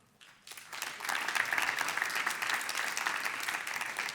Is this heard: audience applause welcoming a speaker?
yes